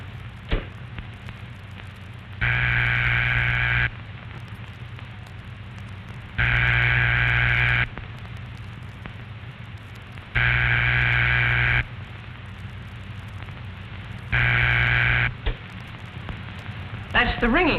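A telephone ringback tone, as a caller hears it while the line rings: four steady, buzzy bursts of about a second and a half each, separated by longer pauses, over a faint background hiss.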